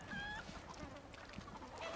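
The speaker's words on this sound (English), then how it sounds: "Fucking chickens? Kidding me?" Chickens cluck and squawk in the video game Resident Evil 4 Remake, faint honking calls against a dense, busy game background with no talk.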